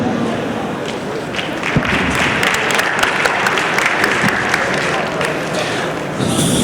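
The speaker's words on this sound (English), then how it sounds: "Can we give them a warmer round of applause, please?" An audience gives panelists at an Asia-Pacific mobility summit session in Singapore a loud, steady round of applause that holds dense and even for several seconds, a dense wash of many hands clapping together.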